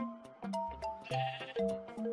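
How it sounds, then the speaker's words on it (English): Minecraft sheep let out a string of short, nasal bleats, about eight distinct calls repeating in quick succession, clear and alone without any talk over them. "Come on, sheep, I need you."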